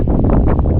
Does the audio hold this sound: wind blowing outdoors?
yes